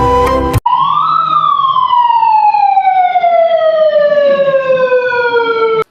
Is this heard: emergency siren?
yes